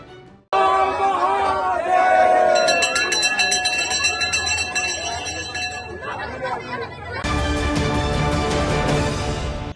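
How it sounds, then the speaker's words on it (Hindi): Devotees crowd a Shiva temple in Giridih on Mahashivratri: loud massed voices and chanting mix with ringing temple bells, then a dense burst of clanging bells swells near the end. "जिले के शिवालय हर हर महादेव के जयकारों से गूंज उठे"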